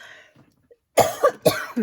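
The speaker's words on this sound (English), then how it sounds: "I have a little bit of a cough today" Two sharp, close coughs in quick succession after a brief quiet moment, each a short burst of rough noise.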